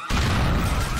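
A car blown apart by a thrown grenade in the video game GTA 4 gives one sudden loud blast that roars on as a dense, sustained rumble for about a second, with no talk over it.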